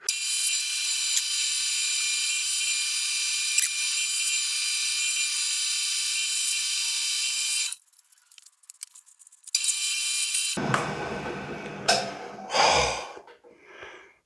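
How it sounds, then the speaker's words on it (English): A drill bit cuts into a custom cross slide for an Atlas lathe as a steady, bright whine for several seconds, then stops, followed by scattered clicks, scrapes and a sharp breath. "I thought I was drilling the wrong side of the cross slide."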